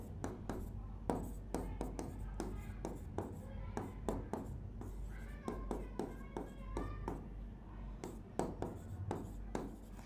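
Chalk or marker writing on a board during a maths lecture, heard as a run of short, close tapping and scraping strokes in irregular bursts, with no talk over it.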